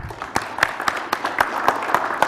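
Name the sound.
audience applause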